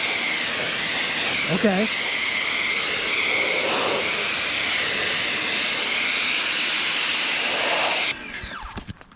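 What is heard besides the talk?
Ryobi automotive pressure washer spraying, 25-degree nozzle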